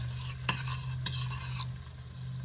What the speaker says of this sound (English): Just adding the onions into the pot with the melted butter.